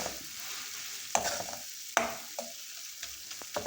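Tomatoes with salt cook on the lowest flame in a pan for kadala (chickpea) curry, giving a soft sizzle broken by several sharp scrapes and clatters of a spoon stirring.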